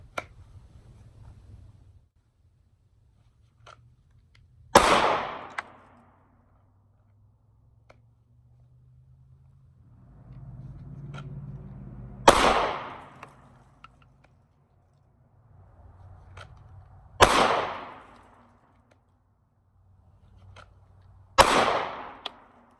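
Four sharp gunshots ring out one at a time at steel target plates on an outdoor shooting range, each a loud crack with a short ringing tail, spaced several seconds apart over a low background rumble.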